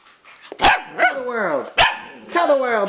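A labradoodle barks in a quick series of sharp, loud, close barks with short gaps between them, and a voice mixes in between the barks.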